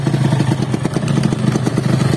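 A Yamaha RX King two-stroke motorcycle with a loose chain revs, its engine clattering in a fast, even pulse, loud and close, with no talking.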